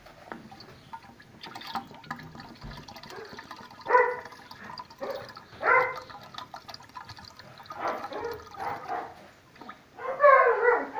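Dogs bark intermittently in the distance, a few scattered yaps over a background of diesel fuel trickling and pouring into a T-25 tractor.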